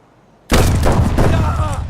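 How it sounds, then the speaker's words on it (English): An explosion goes off in the video game Escape from Tarkov, a sudden loud close blast that breaks the near silence and rumbles on for over a second. "I should have probably just run as soon as I heard that explosion go off"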